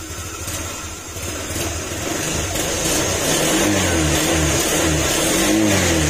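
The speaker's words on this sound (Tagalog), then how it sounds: "yung nagpapaingay dyan sa motor niya, yung sa CVT niya, maingay na" A motorcycle engine revs up and holds a loud, rough drone with a whirring noise from a noisy CVT transmission, close by and steadily building.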